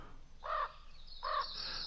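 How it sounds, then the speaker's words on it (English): Raven call played back from a recording: two short, harsh croaking caws about three-quarters of a second apart, fairly faint, with a thin high tone lingering after. "I guess we're hearing a raven on this."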